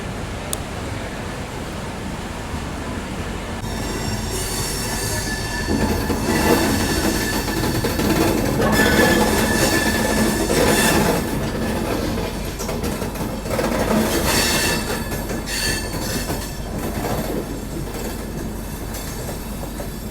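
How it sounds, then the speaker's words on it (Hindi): East Coast Express train pulling out of Cherlapalli railway station, a steady loud rumble of wheels with rhythmic clickety-clack and occasional squeals, continuous throughout with no talk. "अपनी ईस्ट कोस्ट एक्सप्रेस निकल रही है चर्लपल्ली रेलवे स्टेशन से"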